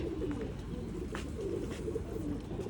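A pigeon coos close by, soft throaty rolling calls repeating over a steady background hum with no talking.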